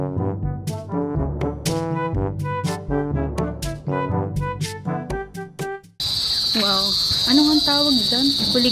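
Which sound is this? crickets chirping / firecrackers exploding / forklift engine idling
crickets chirping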